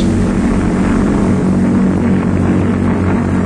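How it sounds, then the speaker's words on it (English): A Lockheed propeller airplane approaches the airfield to land, its engines giving a loud, steady throbbing drone with a low hum that holds constant throughout. "as the plane approaches the field, it slows down for the landing"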